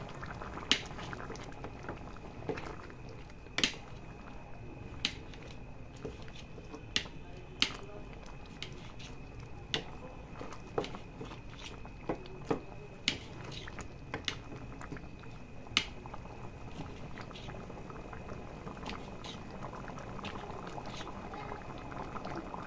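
Ghugni boiling in a pot: a continuous low bubbling bed scattered with sharp, irregular pops and clicks, close and moderately loud, with no voices.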